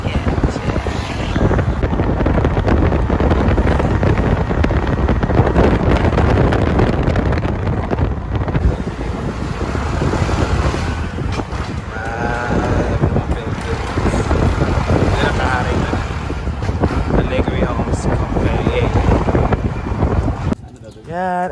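Steady, loud roar of wind buffeting the microphone during a short boat ride off Siargao Island, with engine and water rush underneath throughout and no clear talk.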